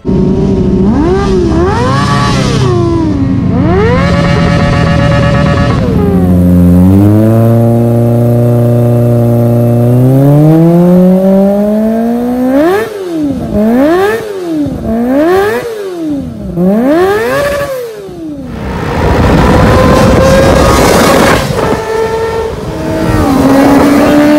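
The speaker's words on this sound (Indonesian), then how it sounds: "Raungan suara inline yang bener-bener muasin gairah hati banget." An inline-four motorcycle engine revs hard and repeatedly at high RPM, pitch climbing and dropping in rapid bursts, loud and close throughout.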